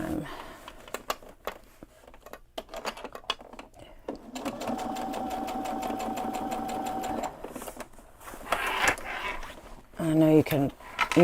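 Sewing machine running a basting stitch on a backpack, a steady close mechanical whir that runs several seconds and then stops and starts again in short bursts, with a voice talking over it.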